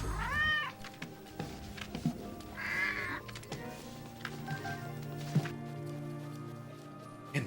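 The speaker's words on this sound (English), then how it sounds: "Your cat make too much noise?" A cat meows a few times close to the microphone, loudest near the start and again midway, over background music and game sounds.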